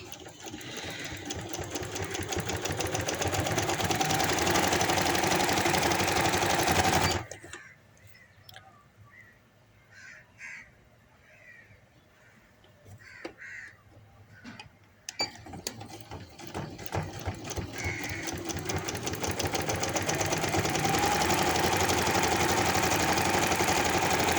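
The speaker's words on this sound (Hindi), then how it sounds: "ये एंड तक मैंने इसको सिलाई लगा दी है।" Sewing machine stitching a handkerchief baby frock, a loud steady mechanical whir running continuously, pausing for several seconds midway with faint handling sounds, then resuming at full speed.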